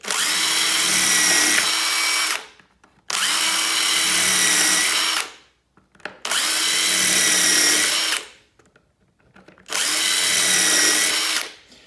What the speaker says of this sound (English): that's going to hold the jig in place while I drill out the rest of this pattern